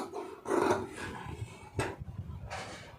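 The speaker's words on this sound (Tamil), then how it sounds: "இப்போ அதை அப்படியே கட் பண்ணிடலாம்" Scissors cut through blouse lining fabric at close range, giving a few rough, rasping snips and rubbing swishes with uneven pauses at a fairly low level.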